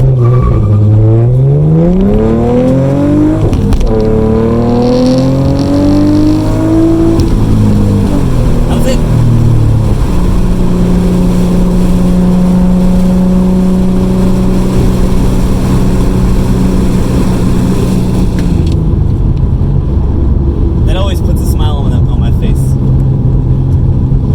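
A Nissan Altima Coupe 3.5 SE with traction control on accelerates hard from 0 to 60, its engine revving up through rising sweeps and gear changes, loud and close from inside the cabin, with someone talking over it.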